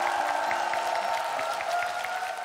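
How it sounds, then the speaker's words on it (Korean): A studio audience at a KBS television music show gives steady, even applause that carries on for a couple of seconds, with a faint sustained tone underneath. "수고하신 두 분께 박수 부탁드리겠습니다"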